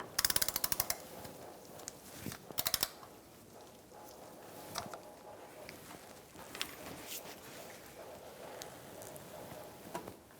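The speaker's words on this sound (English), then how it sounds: "And now we're going to torque this one to 95 foot-pounds." Torque wrench ratcheting on a rear engine mount bolt of a 2004–2009 Mazda 3, two quick bursts of close, rapid clicking followed by scattered faint mechanical taps in a quiet workspace.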